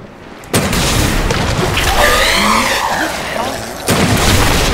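A gunshot in the video game Resident Evil 2 booms out, followed by a broad rumbling roar and a second burst near the end.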